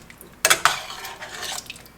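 A lid clanks onto a metal pot of deer stew, one sharp clatter followed by a second lighter knock. A soft bubbling hiss of simmering carries on afterward.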